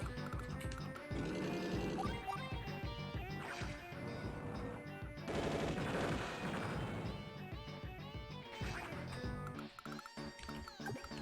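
Game combat effects from Advance Wars Dual Strike as one recon unit attacks another, dense crashing and gunfire-like bursts layered over busy in-game music, loud and continuous with no talk.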